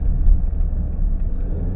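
A 2024 Alfa Romeo Stelvio Quadrifoglio with its bi-turbo V6 gives a low, steady rumble from inside the cabin, a brief continuous drone with no voices.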